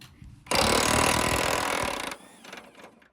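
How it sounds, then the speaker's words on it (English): A cordless impact wrench with a 24mm impact socket hammers loose the blade bolts on a lawn mower deck, a loud continuous rattling whir lasting under two seconds, followed by quieter clinks and spinning noise. "To take off the blades, we're going to use a 24mm impact rated socket along with a maximum impact wrench."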